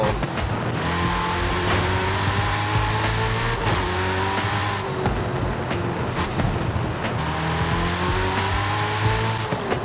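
A Ford RS200 Evolution racing in Forza Horizon 5, its engine droning loud and close throughout, pitch climbing through repeated gear shifts with rising sweeps and brief drops, with occasional tire squeal.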